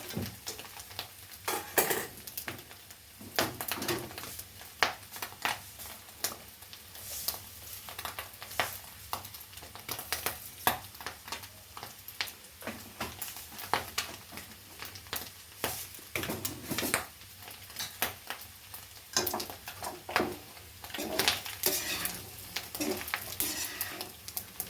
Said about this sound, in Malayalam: കടുക് പൊട്ടി തുടങ്ങിയിട്ടുണ്ട്